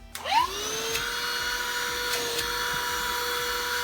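A vacuum cleaner starts up with a rising whine, then runs steadily and loudly with a constant high hum, close by.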